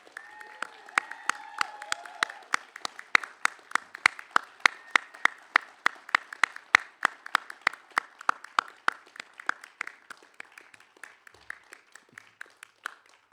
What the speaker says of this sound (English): join me in a round of applause for the graduates